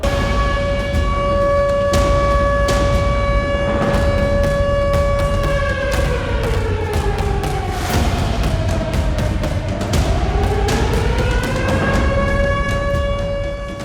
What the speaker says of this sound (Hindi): परमाणु युद्धाभ्यास के दौरान पूरे रूस में सायरन बजे